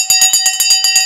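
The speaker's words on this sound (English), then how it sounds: "the bell has gone" A bell rings to open a live stock-market stream, with about nine rapid, bright metallic strikes in an even ringing rhythm, loud and close, with no voices.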